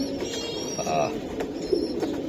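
A large military pigeon coos softly in a short low burble amid steady background hiss and faint bird chatter, with a voice nearby.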